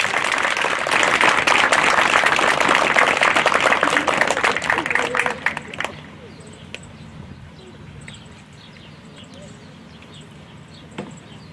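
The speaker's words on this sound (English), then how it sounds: "let's give these students one more round of applause" A gym full of people at a fifth grade completion ceremony applauds loudly for about six seconds before the clapping stops abruptly, leaving quiet room tone and a few faint sounds.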